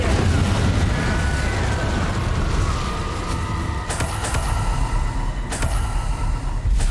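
A fiery spell blast in Hogwarts Legacy erupts as a dense, loud roar with sharp bursts layered over it, heavy low rumble under combat noise, with two sudden cracking impacts in the later part.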